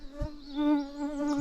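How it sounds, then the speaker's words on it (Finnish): Mosquitoes in a spring field during a roe buck hunt whine in a thin, steady, close buzz with a sustained tone that swells and wavers slightly, alone and fairly faint. "Hyttysiä on jo ihan sikana."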